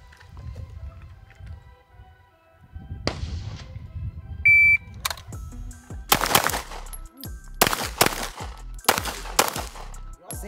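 Rapid pistol shots from a Staccato P during an accelerator shooting drill on a range, a quick series of loud sharp cracks in bursts following a beep and a quieter lead-in with some talking.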